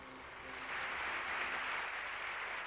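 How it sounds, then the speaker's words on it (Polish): Warm applause at the Seventh Congress of the Polish United Workers' Party in December 1975, a broad steady clapping from a large hall that swells after the first half-second and holds, with no talking. "Serdeczne powitania, gorące oklaski."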